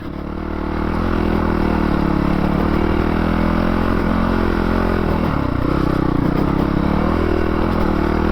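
Loud, steady engine roar from a 2019 Honda CRF450L dirt bike ridden hard along a dusty OHV trail, holding high revs with a brief dip and recovery, accompanied by faint clatter from the ground.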